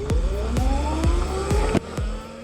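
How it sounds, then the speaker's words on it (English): An Ultraviolette F77 electric motorcycle accelerates with no gearbox, its motor giving a rising electric whine in repeated upward sweeps, close and steady, with brief dips between pulls and a low road rumble beneath. "There's no combustion sound, but there is an interesting whine from the motor which becomes quite likable"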